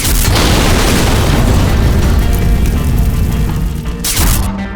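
A timed bomb blasts beside the CNG cylinder on a bus, a loud sustained booming roar with crackling debris that rumbles on for seconds, then a second burst near the end.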